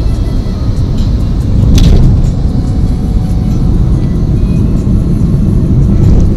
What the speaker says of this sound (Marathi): जॉईंट्सवर गाडी जंप होती, त्यामुळे व्हिडिओ पण जंप होत आहे.